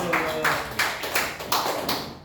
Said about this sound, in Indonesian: Tepuk tangan dulu untuk kelompok Emira dan Rama